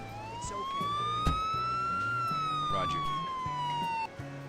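A police siren in the video game Emergency 4 wails in a long rising and falling sweep, with bursts of background clatter and engine noise underneath.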